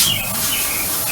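Morning birdsong outdoors: a few short chirps and squawks ring out over a constant background noise, with no speech.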